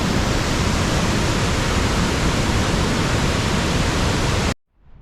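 Triberg waterfalls, the triple waterfall in Germany and the highest there, roar as a loud, steady broadband rush of falling water close by, cutting off abruptly near the end.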